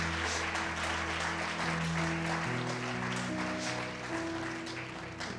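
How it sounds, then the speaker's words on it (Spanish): A church congregation applauds, a sustained wash of clapping under sustained organ or keyboard tones, steady and fairly distant. "Vamos a dar un aplauso a la hermana."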